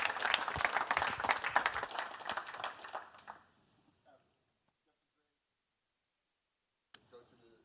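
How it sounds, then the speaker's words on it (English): Audience at a tech meetup applauds after a talk on infrastructure as code, a loud burst of many hands that fades out within about three seconds, then near silence with a faint click and brief murmur at the end. "Then it's time to give another warm round of applause."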